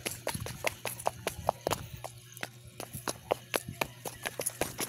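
Quick, sharp walking footsteps in a fast, regular rhythm, close by and crisp, clip-clopping like hooves on a hard surface.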